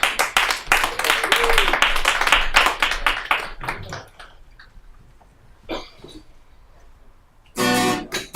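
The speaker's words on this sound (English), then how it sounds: "Give a round of applause for Patrick and Jeremy." A comedy club audience claps for musical guests, a loud patter of hands that fades out after about four seconds, followed by scattered coughs and a short final burst of noise.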